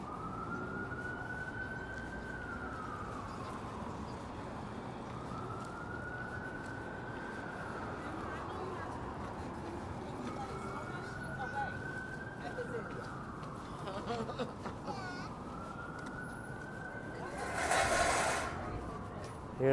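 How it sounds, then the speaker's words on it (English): An ambulance siren wails on a Brooklyn street near the Navy Yard, its rising and falling tone repeating steadily at a moderate distance over city traffic noise, with a brief louder burst near the end. "There's an ambulance here now."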